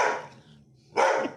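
A dog gives two barks about a second apart, moderately close and fairly loud, with a low hum in the background.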